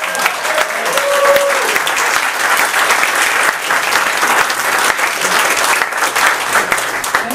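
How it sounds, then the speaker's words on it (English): Audience at the closing of the FOSSASIA Summit 2015 tech conference bursts into loud, continuous applause, a thick roar of many hands filling the room throughout. "You didn't get your applause."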